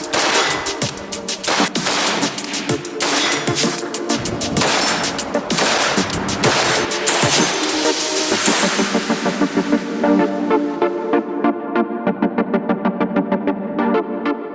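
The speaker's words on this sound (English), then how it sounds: "We're going to step inside next after I put a few more rounds down range." Rapid rifle fire downrange while testing an Impact Weapons Components Thorntail light mount, a long string of loud, closely spaced shots in a steady rhythm that runs through the whole stretch.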